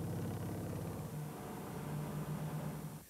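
A convertible sports car engine hums at a steady mid-pitched note, sitting fairly quiet with a slight shift in tone partway through before it cuts off near the end.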